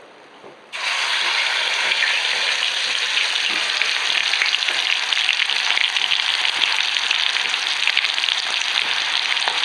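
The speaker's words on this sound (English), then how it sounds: "Now I will deep fry this." Goan chicken cafreal deep frying in hot oil, a loud, steady, dense sizzle that bursts in abruptly after a brief quiet moment and holds unbroken to the end.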